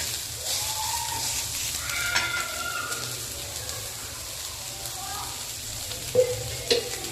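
Chopped onion sautéed and stirred in a pan until reddish: a steady, moderate sizzle with occasional utensil scrapes, and two sharper clinks near the end, no voices.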